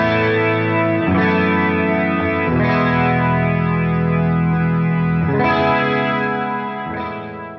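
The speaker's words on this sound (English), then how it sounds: "that's pretty much it for this super pad sound on the Headrush MX5" Guitar through a Headrush MX5 ambient pad patch with long sustain, dynamic delay, chorus and reverb: loud swelling chords that ring on and blend into each other, changing a few times before fading slightly, with no talking.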